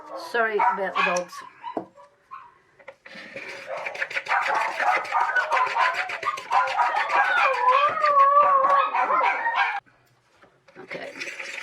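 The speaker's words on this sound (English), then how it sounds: "Sorry about the dogs." Several dogs bark, yip and howl continuously and fairly close, with a drawn-out wavering howl standing out near the end, heard during a resin casting powder colouring session, followed by a short pause and more barking.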